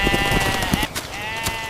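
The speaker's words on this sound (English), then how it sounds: "The sheep. His sheep!" Sheep from a flock bleat in a loud, close, wavering cry that stretches across most of the moment, with a second voice layered in and some rustling around them.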